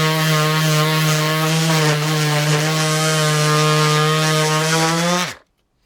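A DeWalt cordless power tool runs on a 5Ah battery with a loud, steady high-pitched whine that holds constant for about five seconds, then shuts off abruptly and spins down to silence.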